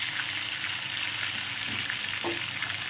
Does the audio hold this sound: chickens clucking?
no